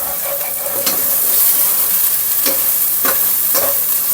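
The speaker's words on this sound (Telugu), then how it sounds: "దీన్ని మొత్తాన్ని ఇప్పుడు బాగా మిక్స్ చేసేసుకోవాలి" Masala with a spoonful of salt is stirred as it fries in a pan for a mushroom masala curry, giving a steady close sizzle broken by several sharp scraping stir strokes, with no talk.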